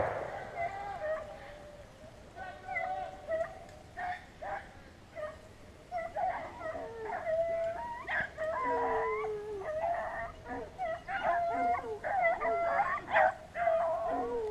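A pack of beagles bays during a rabbit hunt in North Carolina, with repeated overlapping howls and yips in uneven bursts at moderate distance. A voice speaks intermittently among the barking.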